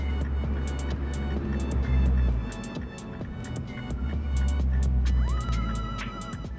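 A Mini under hard acceleration with boost building, a loud steady engine roar that rises and falls with a rising whine toward the end, close and continuous with no talk over it.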